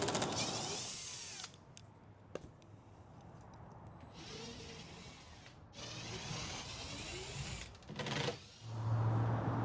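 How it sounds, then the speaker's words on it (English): An impact driver removing screws from a hatch whirs and rattles in several short bursts, with clicks and handling noises between runs. "we will use our trusty impact driver"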